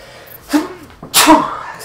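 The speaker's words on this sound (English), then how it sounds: "that sneeze almost didn't come and then it came" A sneeze recorded between stretches of rally driving commentary, a small first burst followed by a loud full sneeze about three quarters of a second later, close to the microphone.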